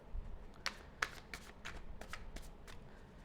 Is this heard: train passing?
no